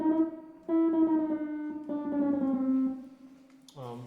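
A 31-tone split-keyed claviton plays sustained keyboard tones a diesis apart, held notes shifting slightly in pitch in close succession, clear and alone.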